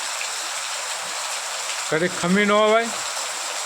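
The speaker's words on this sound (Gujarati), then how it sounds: "અત્યારે વરસાદ ચાલુ થયો છે ભાઈ." Rain falls in a steady, even hiss throughout, with a short spoken phrase breaking in over it partway through.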